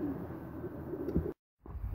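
Racing pigeons in a breeding loft give low, murmuring coos over a steady background hum, with a brief drop to silence near the end before the sound returns.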